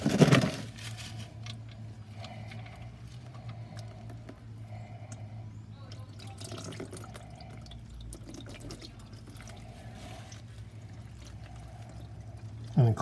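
Transmission fluid draining from the drain plug of a Honda CR-V, a steady low pouring trickle with faint drips, fairly quiet and continuous, with sharper clanks at the start and end.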